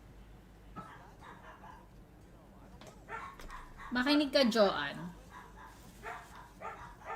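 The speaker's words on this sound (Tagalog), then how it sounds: "Gulo-gulo na mga aso ko. May tao kasi sa labas." Dogs bark and yip in short excited bursts at someone outside, loudest toward the middle, while a person speaks briefly nearby.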